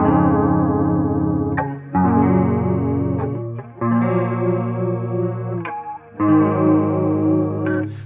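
Clean electric guitar strumming a sequence of chords with chorus on, neck pickup selected and distortion off, in four ringing strummed phrases separated by short pauses, close and alone.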